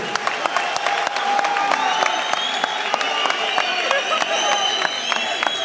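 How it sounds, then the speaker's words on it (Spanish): An audience at a freestyle rap battle event claps and cheers, a loud sustained burst of applause with sharp individual claps standing out above the crowd noise. "Un fuerte aplauso."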